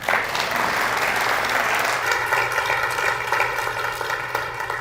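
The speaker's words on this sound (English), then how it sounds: "So big round of applause for our volunteers" Audience applause for volunteers at a fundraiser breakfast, a steady roar of many hands clapping that holds loud throughout, with a faint voice near the start.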